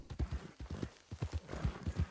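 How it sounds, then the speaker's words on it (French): Horse hooves clip-clop at a brisk, steady rhythm in Red Dead Redemption 2 as a skittish mount trots along, each beat crisp and close in a continuous run of footfalls. "Mon cheval, il est stressé, t'inquiète."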